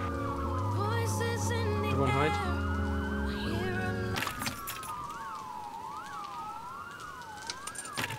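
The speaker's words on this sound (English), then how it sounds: "it's a patrol car. I see it." A police patrol car siren wails in the video game Watch Dogs, first mixed with game music and a brief spoken line, then sweeping up and down alone in a steady, loud, rising-and-falling cycle.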